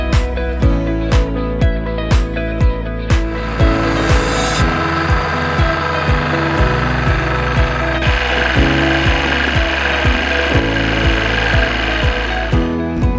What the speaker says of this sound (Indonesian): singkong ditiriskan menggunakan mesin pres hidrolik guna mengurangi kadar air